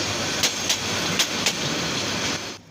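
Tista Express train rolling into Gafargaon railway station, a steady broad rumble of carriages with a few sharp rhythmic clacks over rail joints, fairly loud and continuous before cutting off abruptly at the end.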